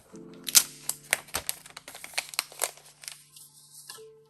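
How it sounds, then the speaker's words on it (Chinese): Protective film peeled off a Huawei Mate X2 folding phone screen, a run of sharp crackling tears and crinkles close by, ending with a brief tone. "把这个膜给它撕开来"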